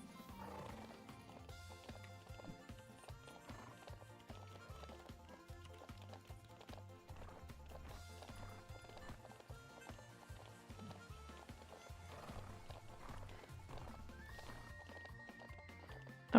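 A horse cantering in the video game The Ranch of Rivershine, with soft rhythmic hoofbeats repeating at an even pace under background music, moderately quiet throughout.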